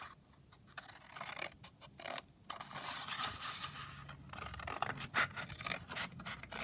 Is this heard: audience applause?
no